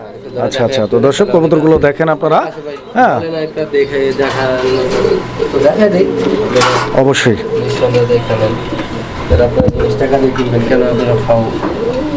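Caged pigeons, including a female from a breeding club, coo in low rolling calls at a pigeon seller's collection, mostly buried under loud nearby talk throughout.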